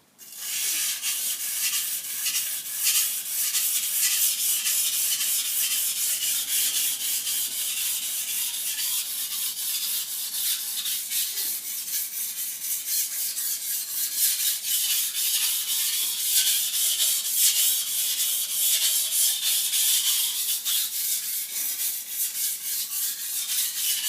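A kitchen knife drawn over Shapton Ceramic Pro whetstones, a steady close hissing rasp of steel on stone with quick repeated strokes, continuous and alone without talk.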